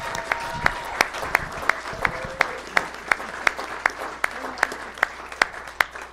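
Steady audience applause at a school board meeting, with sharp individual claps standing out over the crowd for the district's Classified Employee of the Year; a voice is faintly heard underneath.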